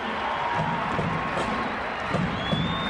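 Home crowd at a 1991 Drake vs ISU college basketball game cheering after a turnover, a sustained roar of voices and whoops filling the arena, with a commentator talking over it.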